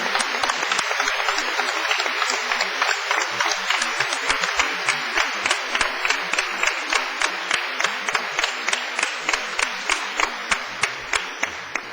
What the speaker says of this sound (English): enthusiastic round of applause